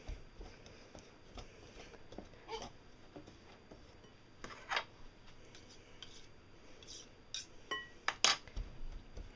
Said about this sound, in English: cut the butter into the flour so it resembles breadcrumbs.